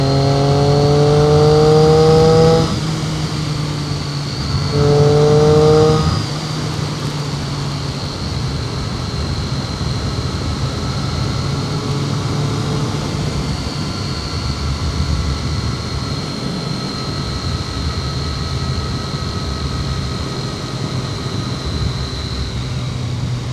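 Motorcycle ridden at Land Between the Lakes: a loud engine note climbs twice in the first seconds, then settles into a steady rushing drone mixed with wind noise.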